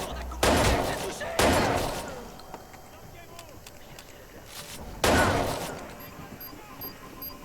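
Loud bursts of gunfire from the Watch Dogs 2 video game, three heavy blasts with decaying tails spread across the clip. Game voices speak throughout, with faint electronic beeps near the end.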